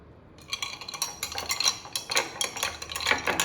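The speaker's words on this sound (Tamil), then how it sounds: "நல்லா மிக்ஸ் பண்ணி விட்டுருவோம்." Spoon stirring a beetroot-tinted rose milk mixture of milk and sugar in a glass or vessel, with repeated clinking scrapes in an irregular rhythm, close and fairly clear, no talking.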